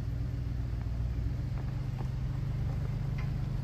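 A car rolls slowly in reverse, a steady low engine rumble close by with faint ticking over it and no voices.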